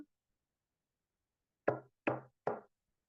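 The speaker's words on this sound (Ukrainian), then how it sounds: "Хто це до нас стукає?" Knocking on a door: after a silence, three sharp, evenly spaced knocks, close and clear, with nothing else audible.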